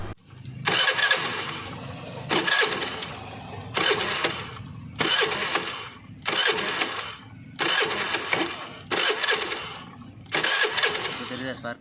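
A Honda Activa 5G scooter with a wiring harness fault cranks on its self-starter in about six separate loud, close bursts, each whirring briefly and then cutting out without the engine catching, with pauses between attempts.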